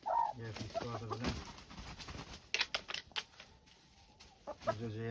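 Poultry chicks, likely turkey chicks, peep at close range in a series of short, high-pitched calls in uneven bursts, with a few louder clucks and brief knocks in between, and no one speaking.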